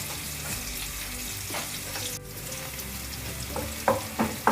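Onions fry in a pan over low-to-medium heat, giving a steady close sizzle with occasional stirring scrapes and small pops near the end, with no talking.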